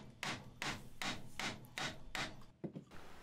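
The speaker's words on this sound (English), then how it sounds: "and then just clean it up with a chisel." A chisel pares and cleans up a wooden dovetail joint, making about seven rhythmic, scraping strokes roughly half a second apart, quiet and close.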